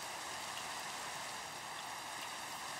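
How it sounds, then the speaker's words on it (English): Steady rainfall in a Minecraft world (FTB Revelation modpack), an even soft wash of rain noise throughout at low level, with no talk. "Rain, go away."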